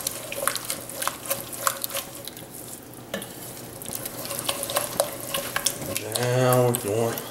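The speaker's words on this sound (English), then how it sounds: "Let me stir that in. Get mixed in with everything." Beef and mushrooms stirred in a hot pan, with a steady sizzle under repeated scraping strokes of a spoon; near the end a brief run of running water rises above the frying.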